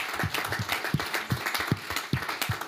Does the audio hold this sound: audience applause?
yes